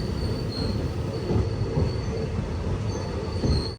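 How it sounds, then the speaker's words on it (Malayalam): A train pulls into platform 2 at Theni railway station on the Madurai–Bodinayakkanur line, its wheels squealing steadily over a loud continuous rumble of rolling carriages throughout. "തേനി റെയിൽവേ സ്റ്റേഷനിലേക്ക് നമ്മുടെ ട്രെയിൻ എത്തിയിരിക്കുകയാണ്"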